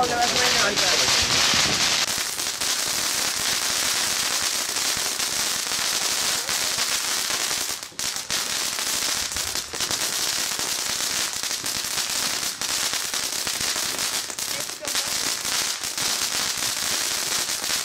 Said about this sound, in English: It's a firecracker fountain!